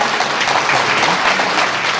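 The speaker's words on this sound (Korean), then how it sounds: "큰 박수 주시기 바랍니다" Steady, dense applause from a large audience at a ceremony, continuous and fairly loud throughout with no pauses.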